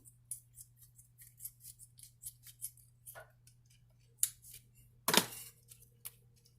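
Scissors snip open a plastic-wrapped ground beef package with a quick run of close, crisp cuts, then one louder rip-like slice near the end, with no talk.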